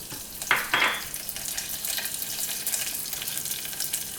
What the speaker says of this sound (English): I'm adding in mustard seeds, very little bit of cumin, curry leaves, dry chili,